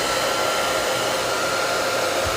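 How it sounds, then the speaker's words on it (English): Hair dryer blowing steadily and loudly at close range to dry a watercolor painting, a continuous airy whoosh with no talking. "I'm gonna hit it with a hairdryer now so we can move on."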